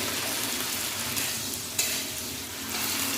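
Taro flowers with a little salt and turmeric stir-fry in a pan for a shrimp dish, a steady close hiss of frying with soft stirring scrapes and a brief clatter midway.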